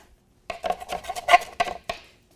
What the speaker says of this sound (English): So I find that when I'm chopping, I just hold my hand on the tip and then I move my knife around.